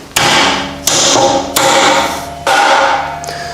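Self-lubricating bushes are hammered into a Hustler Badboy mini chopper frame with four loud, ringing metallic strikes, each one fading before the next.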